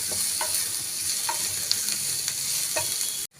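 Onion and capsicum sauté in a pan for a dhaba-style potato gravy, a steady sizzle with several clear scrapes and knocks of the spoon as they are stirred, ending abruptly.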